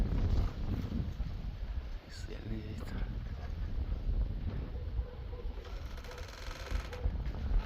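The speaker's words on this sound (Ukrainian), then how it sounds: "Сильний вітер." Strong wind buffets the microphone in a steady low roar, with some rustling and knocks mixed in throughout.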